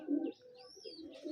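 A female pigeon gives a brief, low coo up close: one firm opening note, then softer murmuring with a thin chirp above it.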